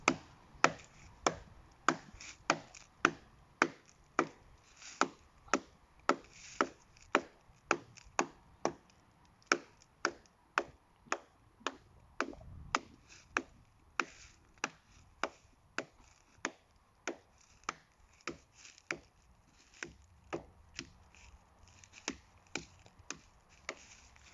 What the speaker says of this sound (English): So the first stage is just to cover the entire length on the one side and just beat the hell out of it.